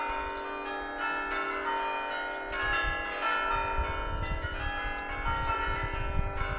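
Wedding bells ring from a church, a layered, steady peal of overlapping strikes and long humming tones carrying through open air, with a soft low rumble of surroundings underneath and no voices.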